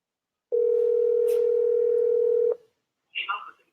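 A phone call rings out over speakerphone, one long steady tone lasting about two seconds, loud and close, followed by a short burst of voice.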